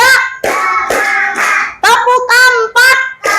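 Young children in a lower-grade classroom lesson clap their hands in short bursts along with loud, rhythmic chanted voices, the claps partly buried under the group chanting.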